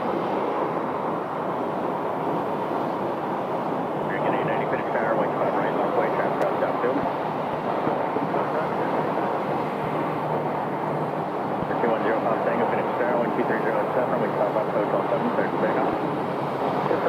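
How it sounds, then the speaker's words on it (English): A Shorts 360 turboprop of Air Cargo Carriers lands at Phoenix Sky Harbor Airport, its steady engine roar filling the whole stretch at moderate distance, with wind noise and faint radio chatter beneath. "here comes another Shorts 360 landing"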